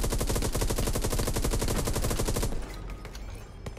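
Rapid, loud automatic gunfire in the video game Hell Let Loose, aimed at the wall of a building, a dense burst of rattling shots for about two and a half seconds that then stops and leaves a rumbling tail.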